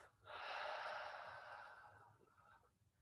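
A single deep exhaled breath during a balance and core exercise session, one close breathy rush that swells quickly and fades over a few seconds, with no talk.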